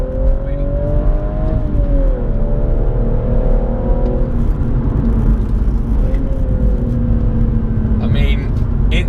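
BMW M135i or M2 engine accelerating hard in sport mode, a steady loud rising drone with gear-change dips around two and six seconds, running throughout with a driver talking over it.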